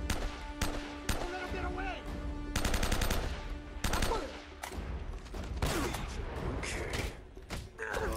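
Bursts of gunfire crackle in a firefight in the PS4 remaster of Uncharted: Drake's Fortune, rapid automatic volleys and sharp single shots close by, with a gap between flurries and some clattering thuds mixed in.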